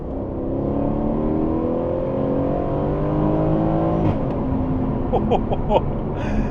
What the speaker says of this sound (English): that exhaust note is pure theatre